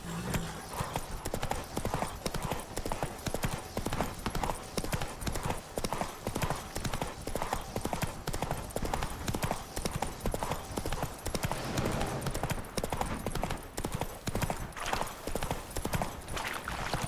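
Roach, a horse in The Witcher 3, gallops in a steady, driving clip-clop of hooves that runs close and loud throughout, with occasional snorts and whinnies over a dense game soundscape.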